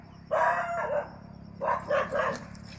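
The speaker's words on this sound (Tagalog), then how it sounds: "Mayroong aso." Two short bursts of dog barking outdoors at a rural home, a few quick barks around the half-second mark and another cluster a little later, moderately close over a steady background hum.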